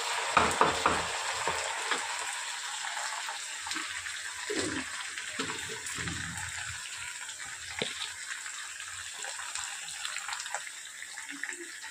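Onions, garlic, green chillies and dried red chillies fry in a pan, a steady close sizzle with occasional stirring scrapes and knocks, no talking.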